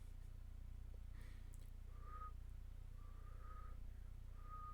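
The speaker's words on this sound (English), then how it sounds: "That's the best I can whistle. It's pretty bad." Someone attempting to whistle, producing faint, thin, wavering short tones, three weak whistles spaced apart over a quiet low hum, with no talking.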